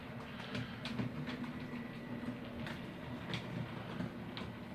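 A model railway locomotive running on a layout with dirty track, a continuous low mechanical hum with light rhythmic clicks of wheels over rail joints, close and fairly quiet, with no talking.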